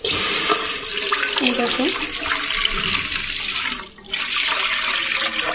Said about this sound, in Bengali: এবার আমি এর ভিতরে জল দিয়ে দেবো।